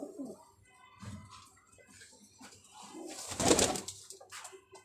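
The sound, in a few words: pigeons cooing and flapping wings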